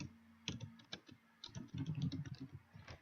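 Close typing on a computer keyboard, bursts of rapid irregular key clicks with brief pauses between runs, quiet and alone.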